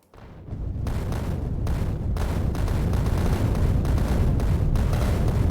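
Artillery shells firing and exploding in the Factorio video game, a dense, continuous rumble of booms and blasts that swells after a quiet start and keeps rolling heavily without a break.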